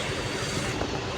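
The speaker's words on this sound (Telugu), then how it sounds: "అయిపోయింది, ట్రైన్ అయితే వెళ్ళిపోయింది ఫ్రెండ్స్." A Vande Bharat train rushes past close by at Gudur Junction station, a loud, steady roar of wheels and carriages with faint rhythmic rail clatter filling the short stretch.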